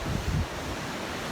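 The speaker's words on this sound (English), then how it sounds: "Yeah, see the waves there." Ocean waves break at a beach in Bali, a low, steady wash of surf with a brief louder swell at the start, heard alone with wind noise on the microphone.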